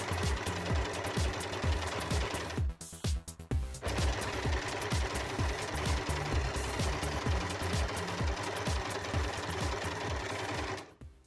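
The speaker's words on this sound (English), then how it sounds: "edge the sides with a zigzag stitch, or if you've got a couple of different features on your sewing machine" A domestic sewing machine runs a zigzag stitch along fabric edges while making a toddler jumper dress, a loud, steady rapid needle chatter with one brief pause partway and a stop at the end.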